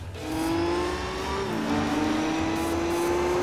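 An Audi race car in the video game Gran Turismo 4 accelerates with a steady, rising engine drone. A shift-like dip comes midway before the pitch climbs again, loud and continuous, with no voices.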